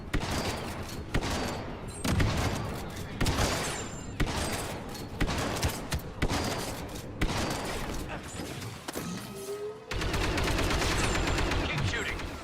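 Repeated blaster fire from a Star Wars Battlefront II battle, sharp shots coming in quick irregular bursts for the full length, loud and near, with a denser barrage near the end and a voice briefly speaking over the fighting.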